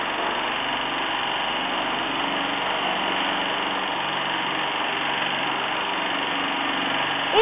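A fully automatic granule packaging machine makes end and vertical seals on sachet bags with a constant, even mechanical hum and whir, running nearby without pause or talking.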